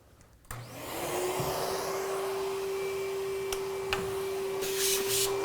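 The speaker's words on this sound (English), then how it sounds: "the first process, and really in all interior processes, is going to be to vacuum the car" A vacuum cleaner starts up with a click and settles into a steady, loud whine, with faint bumps and knocks as the nozzle moves around a car interior.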